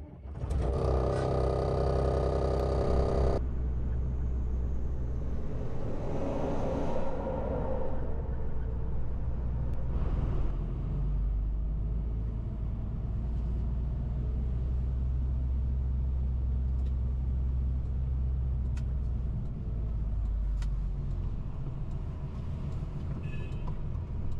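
A truck's diesel engine starts on a frosty morning with a brief grinding crank, then settles into a loud, steady, low rumbling idle and drive, heard close and alone without talk.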